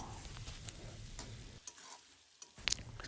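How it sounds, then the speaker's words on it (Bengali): Chicken stir-frying in a pan for a home-cooked curry, with steady sizzling and scraping stir strokes, a brief quieter stretch, then louder clattering stirs near the end; no talking. "এবার আমরা চিকেনটাকে ভালো করে কষিয়ে নেব।"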